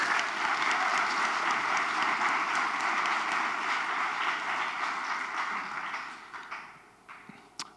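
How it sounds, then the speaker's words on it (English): Audience applause during a live product demo event, a dense wash of clapping that holds steady and then thins out toward the end. "Round of applause."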